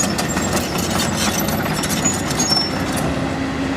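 A Caterpillar 6.4 common rail diesel engine runs steadily and strongly, a dense, even rumble with a constant knocking texture, close and loud, with no talking over it.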